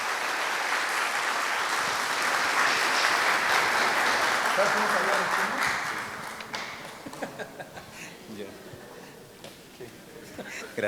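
A church audience claps loudly in welcome of a speaker, a dense burst of applause that holds for several seconds before thinning into scattered claps as a voice begins talking.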